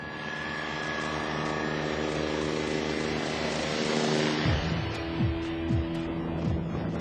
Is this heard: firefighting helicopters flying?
yes